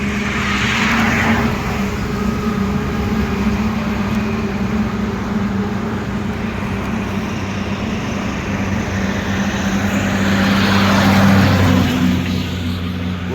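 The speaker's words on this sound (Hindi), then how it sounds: "उड़ीसा का कंटेनर है, 10 चक्का।" A ten-wheel container truck from Odisha rolls by on a national highway, its steady low engine drone and tyre roar filling the whole stretch and swelling slightly near the end as it passes close.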